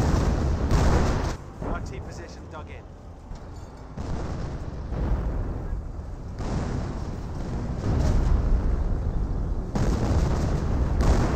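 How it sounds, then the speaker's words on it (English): A creeping artillery barrage in Company of Heroes, with repeated heavy booming impacts and rumbling explosions spread across the stretch. Loud bursts come in waves over a dense battle din, and a commentator talks over it. "That may be a creeping barrage."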